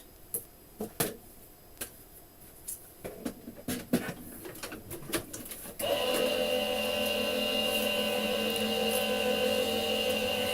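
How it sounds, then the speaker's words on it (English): A series of sharp clicks and taps is followed by a die cutting machine grinding steadily as a card with washi tape is cranked through, loud and continuous to the end. "we'll pop this through the die cutting machine"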